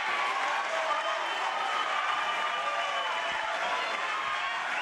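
A boxing arena crowd roars in a steady, broad wash of cheering and clapping that holds evenly, with a commentator's voice faintly underneath.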